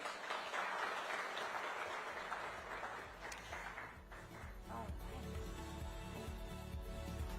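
A crowd at an education summit applauds in a dense, sustained wash of clapping that fades toward the end, with a low musical tone rising beneath it.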